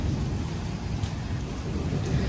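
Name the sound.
heavy rain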